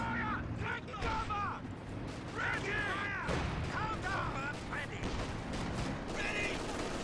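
MG42 machine gun fire in a Company of Heroes 2 battle, rapid bursts of gunfire mixed with explosions and battle noise, with speech-like voices and whistling calls over the continuous din.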